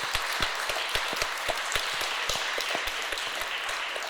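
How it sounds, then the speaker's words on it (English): Audience applause at a fundraiser panel discussion, a steady wash of many hands clapping with sharp individual claps standing out, moderately loud and continuous for a few seconds with no talking. "I want to give Emma a huge round of applause for pulling this all together today."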